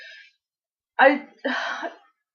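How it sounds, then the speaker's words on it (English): Two short, harsh bursts of coughing close by, the second longer and rougher, after a brief faint sound at the start. "Oh no, coughing."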